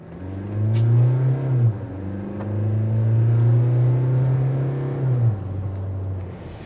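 Mahindra Scorpio N diesel automatic SUV with a 400 Nm engine driving off-road, a steady low engine drone rising and falling with throttle, smooth and continuous, heard from inside the cabin without talk.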